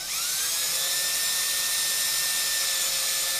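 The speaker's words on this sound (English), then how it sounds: "I'm going to drill 1 more hole way on this side." A small drill whines steadily at a high pitch, spinning up at the start and holding a constant tone while boring a hole into headphone plastic.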